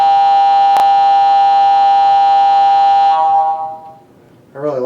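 Long horn blast of a Bachmann GG1 HO scale model locomotive with SoundTraxx sound: a loud, steady, chord-like electronic tone held for about three seconds, then trailing off with a faint echo.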